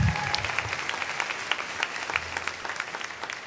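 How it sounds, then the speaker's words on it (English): A large graduation audience applauds in a continuous, dense wash of clapping with scattered louder individual claps, steady throughout, over a low rumble from the hall. "Let's give a round of applause if we can."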